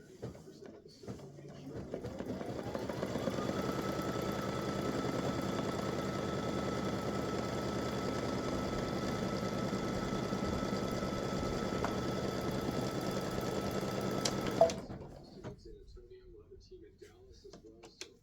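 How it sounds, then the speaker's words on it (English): An embroidery machine stitches a color stop on an Easter carrot design, a steady rapid mechanical hum running for about thirteen seconds before stopping abruptly, with faint talk around it. "so now we're going to stitch color stop number 3."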